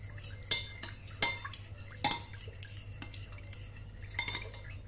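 A spoon stirs a homemade anti-yellowing spray mixture, freshly dosed with drops of essential oil, in a small container, giving quiet scraping swirls and a few light clinks against the sides.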